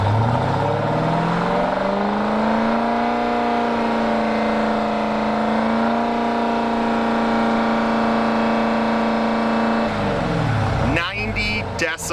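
Completely stock, unmodified car revved during a Vancouver Police roadside exhaust decibel test, measured about 50 cm from the tailpipe at 45 degrees. The engine rises and holds a steady high rev for around ten seconds, then drops off sharply.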